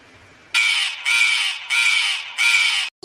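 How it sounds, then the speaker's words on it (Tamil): Crow cawing loudly and close in the morning, four harsh, drawn-out caws in steady succession with short gaps between. "காலங்காத்தாலே காக்கா இப்படி கரையுது"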